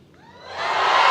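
Family and friends at a graduation commencement ceremony cheer and whoop, the crowd noise swelling from a quiet start into loud, sustained cheering.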